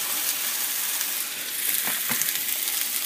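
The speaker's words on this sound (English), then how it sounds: "Ready for the sizzle." Oil and food sizzle steadily in a hot pan, a bright continuous crackle with a few sharper pops near the end.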